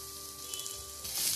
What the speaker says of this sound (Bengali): পেঁয়াজটা একটু ভাজা ভাজা করে তার মধ্যে দিয়ে দেবো একটু লঙ্কা কুচি।